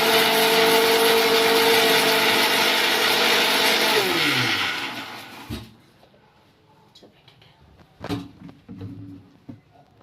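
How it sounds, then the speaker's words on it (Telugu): A mixer grinder whirring loudly as it grinds green chillies, running steady for about four seconds before winding down in pitch and stopping, followed by a few light knocks and clatters of the jar. "బాగా కచ్చా పచ్చిగా గ్రైండ్ అయింది ఫ్రెండ్స్"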